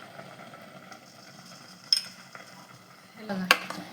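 Coconut and almonds being stirred into kheer in a pot: sparse metallic spoon clinks and soft scraping against the pot, with a sharper clatter near the end, heard close in a quiet kitchen.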